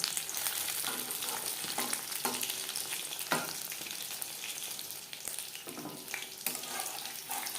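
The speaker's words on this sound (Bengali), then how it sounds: "মাছ ভাজবো মিডিয়াম ফ্লেমে।" Fish frying in hot oil over a medium flame, a constant crackling sizzle with occasional louder spits and pops, heard up close.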